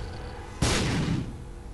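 A single muffled bomb blast in The Binding of Isaac, a sudden low boom that rolls out and fades over about half a second after a quiet start.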